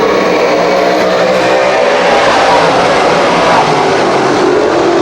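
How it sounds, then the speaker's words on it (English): Modified race cars in the 358 class roar around a speedway track after a green-flag restart, engines blaring loud and continuous with a dense, sustained wall of revving noise throughout. "He's going to pound the throttle right there between turn number 3 and 4."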